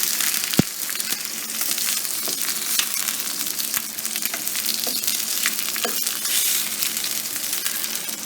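Beyond Meat burger patties coated in oil sizzle steadily in a hot skillet, a dense continuous frying hiss with a few sharp pops and clicks, close and fairly loud, with no talk.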